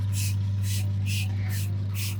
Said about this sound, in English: Now I'm going to spray it down using the soapy water solution.